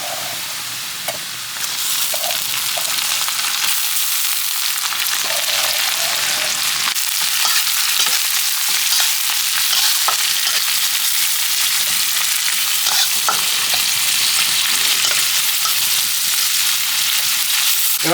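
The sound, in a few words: shrimp frying and being stirred in a pan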